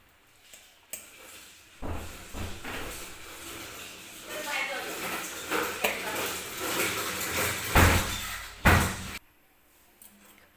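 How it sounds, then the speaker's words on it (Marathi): Cooked rice for lemon rice being scooped with a slotted ladle into a colander, irregular scraping and clattering of metal on metal with a couple of sharper knocks, close, while someone talks throughout. "तर या चाळणीमध्ये भात जो मी आहे शिजवलेला तो काढून घेणार आहे."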